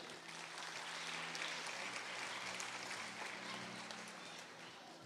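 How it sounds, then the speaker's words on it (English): An indoor audience at an India Day community event applauds the children, with dense, steady clapping filling the room at moderate distance, a voice faintly audible underneath. "Please give a big round of applause to all our children."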